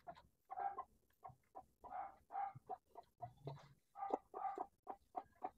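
Chickens clucking while eating feed, a series of short, soft, close clucks and murmurs in an irregular rhythm with quiet gaps between calls.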